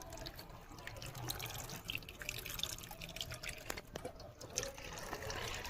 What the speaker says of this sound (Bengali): আমার মেয়ে কি সুন্দর করে কুলগুলো ধুয়ে নিচ্ছে